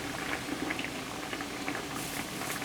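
A pot of water boils for cooking a live lobster, giving a soft continuous bubbling and patter close by with no talk.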